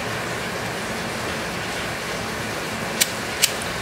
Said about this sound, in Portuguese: eu acho que deve estar escutando o barulho da chuva, né?